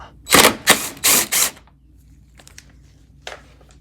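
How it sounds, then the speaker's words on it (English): A socket wrench ratchets rapidly in four quick loud bursts while loosening a 10mm bolt on a 2022–2023 Honda Civic headlight assembly, followed by faint clicks and handling. "We're going to need a 10mm socket to take that out."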